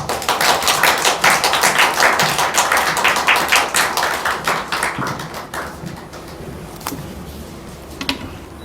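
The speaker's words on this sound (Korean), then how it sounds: "우리 박수로 같이 환영하도록 하겠습니다." A church congregation at a Sunday service applauds together in dense, steady clapping that gradually thins out and fades near the end.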